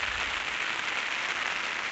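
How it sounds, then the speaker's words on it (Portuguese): Heavy rain pours in a dense, continuous hiss, loud and close, with no talk over it. "Tá chovendo demais."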